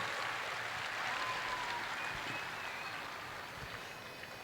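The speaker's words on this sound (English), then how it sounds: "A big round of applause for the Kiwis." Audience applause at the Sydney Royal Woodchopping and Sawing Competition, a steady wash of clapping from a large outdoor crowd that holds for several seconds and tapers slightly near the end.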